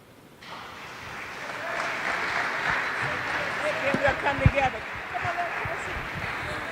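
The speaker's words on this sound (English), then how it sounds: "give these young people a big round of applause for their courage" An audience breaks into steady applause after a brief quiet start, a soft, continuous patter of many hands with a few sharper claps standing out midway.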